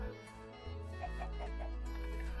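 A chicken clucks softly in Minecraft, a few faint short clucks scattered over low, steady game background tones, with no talking.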